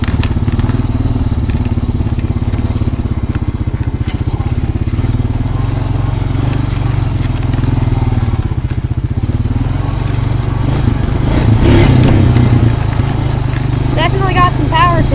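A Honda Rancher ATV engine running loud and close while driving in gear, a steady throbbing putter with a few bumps and rattles, and voices heard over it toward the end.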